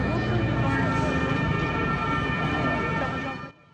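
A fire truck siren wails steadily at a fire scene in France, loud and continuous for several seconds, with a dense rumble of traffic and crowd noise around it before it cuts out abruptly.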